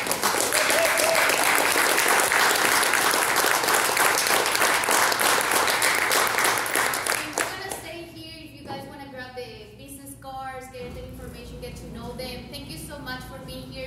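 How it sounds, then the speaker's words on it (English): Sustained applause for a discussion panel at a minority supplier event, dense and steady clapping from the room for about seven seconds before it thins out and gives way to voices and background music. "can we give a round of applause then for the panel?"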